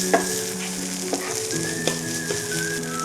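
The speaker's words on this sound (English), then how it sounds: "So at this stage I will add the spinach leaves." Spinach leaves hit a pan of garlic already cooked to a nutty stage and sizzle steadily, with occasional stirring clicks and scrapes over a constant frying hiss.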